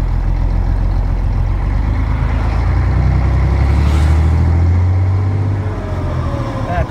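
A Fiat FNM box truck engine revs in city traffic, a loud, close low rumble that swells and holds near the middle before easing slightly toward the end.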